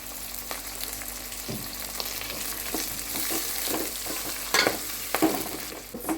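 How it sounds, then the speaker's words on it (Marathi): Spring onion greens and fenugreek leaves sautéing in hot oil, a steady close sizzle broken by stirring scrapes and a few louder utensil knocks toward the end, with no speech. "तेलामध्ये परतून घ्या तेलामध्ये अर्धी कांद्याची पात आणि अर्धी मेथीची भाजी घेतली"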